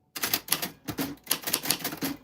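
Keystrokes from a vintage typewriter, typed in quick uneven bursts with sharp clacks and a few bell-like dings, close and clear with no talk.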